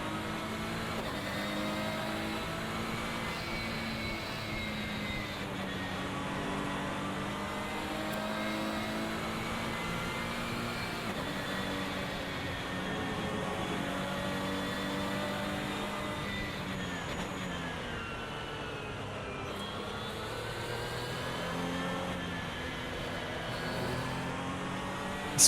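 A race car engine in Assetto Corsa drones steadily around shin956's modded Magnificent Park track, its pitch rising and falling gently through gear changes and corners, loud and constant with no talk.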